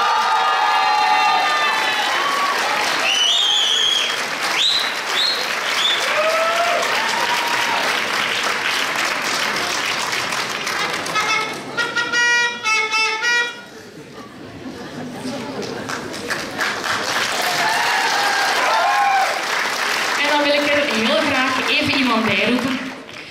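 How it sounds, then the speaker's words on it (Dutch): An audience at a Miss Fashion award ceremony claps and cheers loudly for a prolonged stretch, with whoops, chatter and shouting voices mixed into the sustained applause, which briefly dips midway before building again. "Uw applaus voor Nathalie Gunst."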